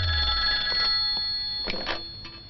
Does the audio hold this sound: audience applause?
no